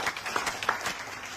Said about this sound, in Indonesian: Tepuk tangan dulu buat Atmo.